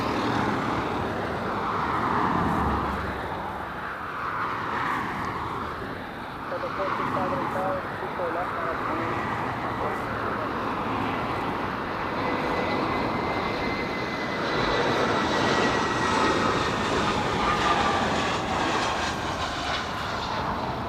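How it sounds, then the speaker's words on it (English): Delta Airbus A319 touching down at LAX: a steady broad jet roar that swells and holds for the whole stretch, with a rising whine near the end, under continuous chatter from nearby voices. "Delta A319 touching down."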